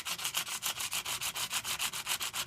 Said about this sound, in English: lightly sand the edges of these guys so that everything is smooth to the touch